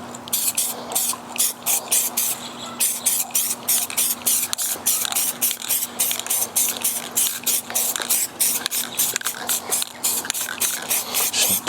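Short bursts of spray paint go on as a light tack coat during a 1986 Monte Carlo SS dash project. They come in rapid, regular pulses over a steady hum and are close and even.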